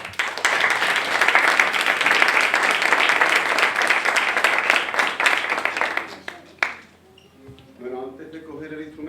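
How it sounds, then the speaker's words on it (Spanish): Loud, dense applause from an audience at a conservatory Women's Day celebration, sustained for about six seconds before cutting off, followed by a few scattered claps and quiet voices. "Un fuerte aplauso."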